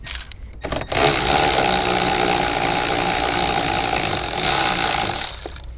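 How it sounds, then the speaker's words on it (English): A 14mm socket on a power ratchet spins out a seat belt bolt in a Toyota Tacoma, a brief clunk and then a steady, loud mechanical whir lasting several seconds before it stops. "We're going to remove that with our 14mm socket."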